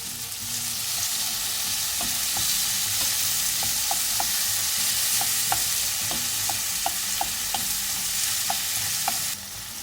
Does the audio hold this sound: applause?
no